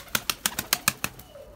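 Breeding pigeons in a coop flapping their wings, about seven sharp, evenly spaced bursts of wingbeats close by, fading into quiet at the end.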